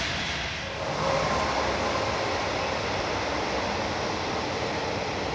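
A train passes on the railway line running beside a canal near Berkhamsted, heard as a steady, fairly loud broadband rumble and roar that swells after the first second and holds without a break.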